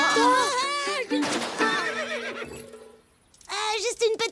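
Cartoon Mongolian horses whinny in loud, wavering neighs, one after another, with a brief quiet gap before a final rising whinny; the calls sound animated and close.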